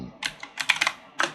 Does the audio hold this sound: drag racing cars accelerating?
no